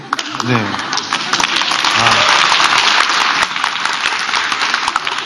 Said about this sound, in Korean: 지금 박수 치시는 거는 한 자락 해봐라는 건가요?